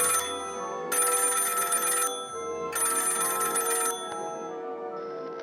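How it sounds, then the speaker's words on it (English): A cartoon telephone rings in two long bursts of bright electronic bell trilling, separated by a short gap, then a quieter tone follows. "Assistant, answer the phone!"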